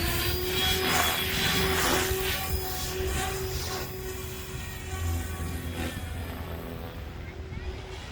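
A Protos 380 RC helicopter motor runs with a steady high whine through strong, gusty wind of around 30 mph, with a roaring buffeting wind noise mixed in and a voice speaking briefly.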